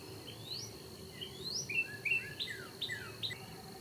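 Several songbirds chirp and call in the trees around a backyard garden in late March, a cardinal among them, with bright repeated whistled notes sounding at moderate distance over a faint steady background hum.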